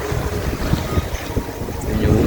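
A sailing boat running before about 15 knots of wind on a one-metre swell, with buffeting wind noise on the microphone and sloshing water against the hull, continuous and fairly loud.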